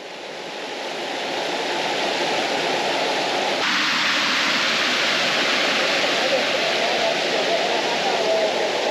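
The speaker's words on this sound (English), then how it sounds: "We crossed the raging river." A raging river rushes in a steady, loud, broad roar that swells over the first seconds and then holds constant, close by at a trail crossing.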